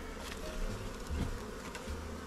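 Honey bees crowd a swarm hive under the inner cover, a close, steady buzzing hum with individual bees droning past, loud and continuous with no voices.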